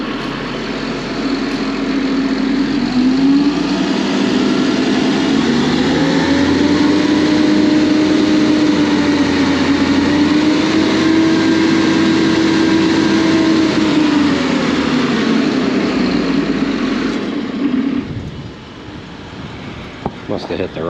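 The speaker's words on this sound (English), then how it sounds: "So he has engaged the pump" A crawler's engine driving a manure pump on a dairy farm: a loud, steady engine drone with a tone that slowly rises and falls, running continuously before dropping off near the end.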